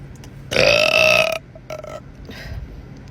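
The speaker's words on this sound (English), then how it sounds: "And yes, I could burp on command." A single long, loud, tonal burp from a person, held for nearly a second, followed by a shorter, fainter belch and some quiet rustling, with no talking.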